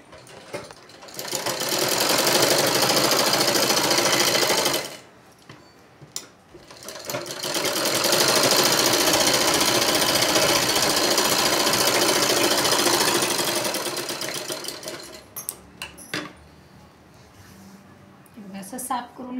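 Sewing machine stitching the side seam of a blouse in two long runs of rapid, steady, loud mechanical whirring separated by a short pause, with someone speaking over and between the runs.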